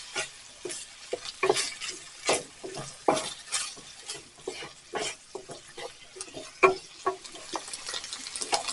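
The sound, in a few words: ground beef casserole simmering until liquid reduces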